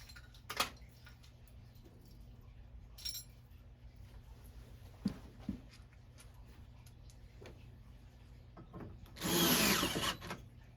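Power drill driving screws into an arcade cabinet side, a short loud whir near the end after scattered knocks and taps, set over a faint steady hum.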